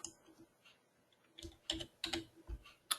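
A stock ticker is typed on a computer keyboard: a short, quick run of close, crisp key clicks in an irregular rhythm.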